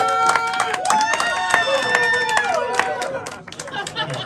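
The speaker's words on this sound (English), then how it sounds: "The crowd goes crazy." A studio audience claps and cheers, with sharp scattered claps and crowd noise rising under talking voices, fairly close and lively throughout.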